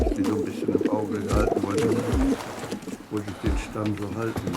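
Pigeons coo repeatedly nearby in a loft in low, rolling calls, with a voice talking underneath.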